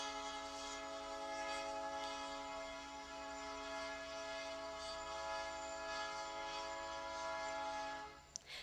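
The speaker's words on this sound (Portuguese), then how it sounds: "olha o trem passando," A train rolls past with a long, steady horn blast that holds for several seconds, loud and near, with rumbling rail noise beneath it before it cuts off abruptly.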